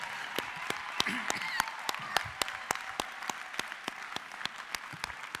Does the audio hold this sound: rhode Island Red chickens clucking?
no